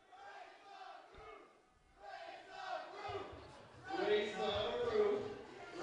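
A football crowd at a Seattle Rainmakers versus Portland Stags game chants in rising waves, the massed voices distant at first and then swelling louder.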